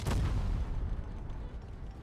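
A deep booming tank gunshot from World of Tanks Blitz, a heavy blast at the start that rumbles and fades into low noise.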